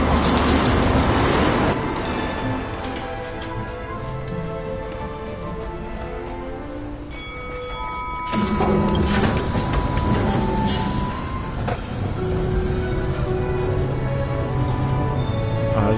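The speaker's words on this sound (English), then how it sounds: "But here's our tram." Tram arriving and running in the video game Syberia: The World Before, a loud steady rumble of wheels on rails with clattering and metallic squeals, continuous throughout.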